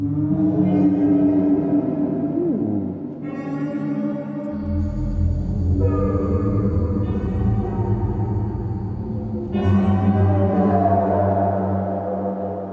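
Sustained, tonal synthetic textures of processed percussion shift between chords, with clean delay repeats trailing each new layer; steady and fairly loud, no voices.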